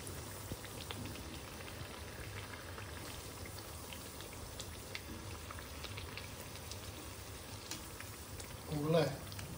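Pumpkin gharge fritters fry in hot oil, a constant fine sizzling and bubbling that runs throughout, with a brief louder splash near the end.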